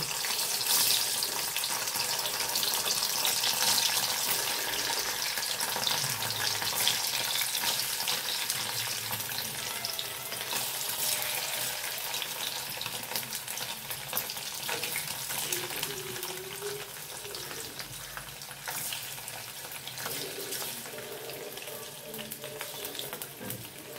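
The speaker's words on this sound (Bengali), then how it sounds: "পনিরটা এখন আমি হালকা করে ভেজে নেব।" Paneer frying lightly in white oil in a kadai, a steady broadband sizzle that holds at a fairly even level throughout with no talking.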